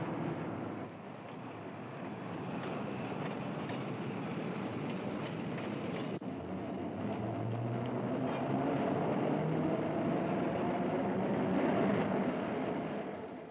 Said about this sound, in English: This is a tunnel, a subway.